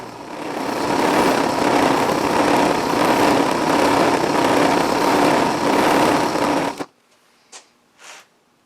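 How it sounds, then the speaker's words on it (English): A fine, broken-in wire wheel burnishes a sword blade with a loud, steady whirring grind for about seven seconds, then cuts off, followed by two brief faint touches against the wheel. "The wire wheel burnishing is the most satisfying part"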